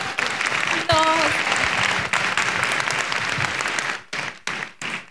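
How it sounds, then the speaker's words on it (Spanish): Audience applause at a sales conference in a Cancún resort ballroom, a broad wash of clapping with a brief tonal sound near the start, fading toward the end into a few scattered bursts. "Un aplauso"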